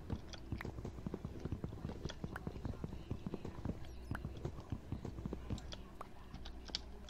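Horse walking in the Minecraft video game, quiet rapid clip-clopping hoof steps continuing steadily throughout, with faint clicking alongside.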